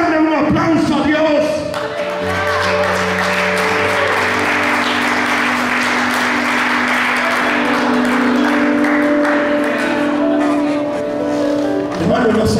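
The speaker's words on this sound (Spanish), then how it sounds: "¿Podrá alguien darle un aplauso a Dios?" Loud, sustained applause from a church congregation, rising into steady clapping and cheering that fills the space for several seconds before fading back toward a voice.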